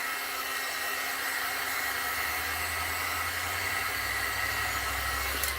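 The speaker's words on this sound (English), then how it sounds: "if you have to use a heat gun, go for it. Just dry it up." A heat gun blows a constant breathy hiss as it dries a layer of clay-based paint in a home kitchen, a steady even roar lasting throughout with no pauses and no voices.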